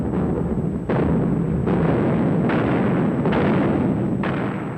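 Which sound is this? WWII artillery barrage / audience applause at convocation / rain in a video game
WWII artillery barrage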